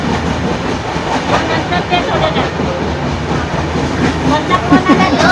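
Ernakulam–Nizamuddin Duronto express heard from inside a running coach on the Konkan route, a loud steady rumble with rhythmic wheel clatter and faint squeals, while passengers talk nearby.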